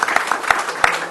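A short burst of applause fills a municipal meeting room in Suwon as a Korea University architectural engineering presenter leaves early; dense, close clapping lasts about a second.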